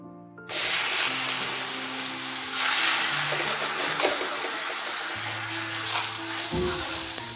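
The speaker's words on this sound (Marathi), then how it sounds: "आधीमध्ये त्याला एकदा तेल सोडायचं आणि छान असं खरपूस भाजून घ्यायचं" Thalipeeth roasting in oil on a pan gives a loud, steady sizzle that starts abruptly and stays close and continuous, with small crackling surges and a low background hum.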